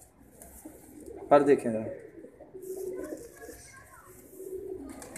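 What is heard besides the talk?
pigeons cooing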